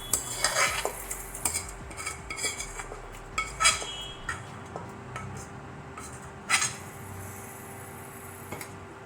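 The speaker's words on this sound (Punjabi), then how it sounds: "ਤੇ ਦਾਲ ਨੂੰ ਆਪਾਂ ਹੁਣ ਮਿਕਸ ਕਰ ਦਵਾਂਗੇ" Spoon scraping and clinking against a pot while chana dal with tadka is mixed, scattered close metallic knocks and soft stirring under a faint steady hum.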